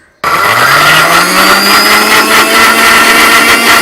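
A mixer grinder starts up suddenly and whirs loudly and steadily, its motor pitch rising at first then holding a constant high-speed drone.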